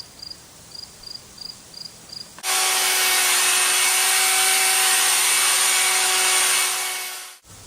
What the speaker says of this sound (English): We're just going to burnish it up here, full speed.